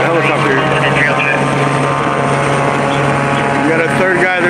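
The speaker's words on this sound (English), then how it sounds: "It's probably not loud enough with the helicopter." Police helicopter hovering over a Los Angeles night crime scene, a steady loud rotor and engine drone filling the whole clip, with people talking underneath.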